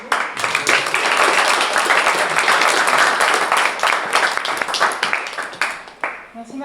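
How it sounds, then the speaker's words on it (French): Conference attendees applaud after a talk on building an open-source React Native library, a loud, full round of clapping that swells, holds, then gradually thins toward the end. "On peut l'applaudir à nouveau."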